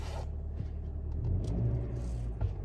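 A car engine runs in minus 30 degree Canadian winter cold, a steady low idling rumble close by with no talking over it.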